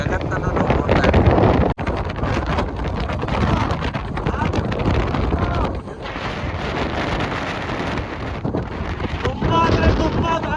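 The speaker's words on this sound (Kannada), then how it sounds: "ತುಂಬ ಅಂದರೆ ತುಂಬ ಗಾಳಿ ಇದೆ" Strong wind roars steadily across a roadside near Sangam, where two rivers meet, on the way through Ladakh toward Leh, a loud continuous buffeting with brief dips and gusts.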